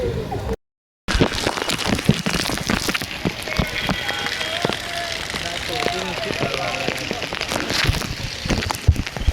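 Rain falls steadily on a group travelling from Nadiad to Pavagadh, with dense patter and crackle continuing under loud talk.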